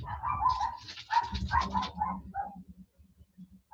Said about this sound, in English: my dogs are going nuts upstairs